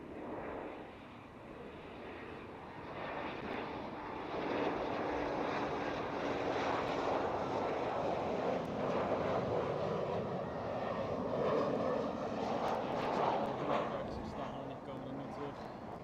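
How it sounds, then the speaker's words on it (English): A KLM Cityhopper Embraer E190 jet roars steadily at Amsterdam Schiphol, a broad engine rumble that swells and holds at middle distance while people chat over it. "KLM City Hopper"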